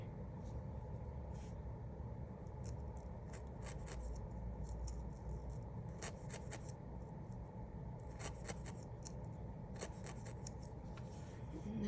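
Small scissors trim wool felt on a needle-felted penguin keychain, making scattered soft snips against a steady low rumble of background noise.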